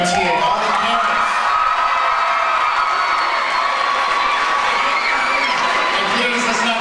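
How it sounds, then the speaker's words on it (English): Parents in an audience at a talent convention awards banquet rehearsal in New York clap and cheer loudly, with whoops and shouts rising over dense, sustained applause throughout. "Give a huge round of applause to the parents that brought you here to IMTA"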